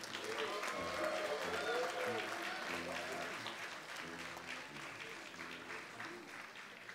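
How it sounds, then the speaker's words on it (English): A crowd claps steadily for the graduating class at the UST Conservatory of Music solemn investiture, a sustained dense applause that carries on for several seconds while voices speak and call out over it. "Let us give them a resounding round of applause."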